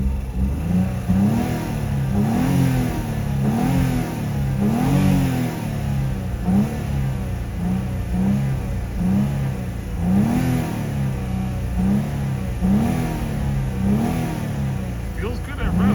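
A broken, misfiring Audi three-cylinder engine revs in repeated rising and falling pulses, its uneven, rough note heard close and loud, with a person talking over parts of it.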